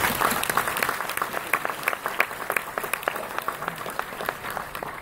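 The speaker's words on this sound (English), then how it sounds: "can we just give a quick round of applause to all the faculty and staff at Jonesboro?" Dense, sustained applause from the audience at a Jonesboro Hodge High School graduation ceremony, many hands clapping steadily at moderate loudness throughout.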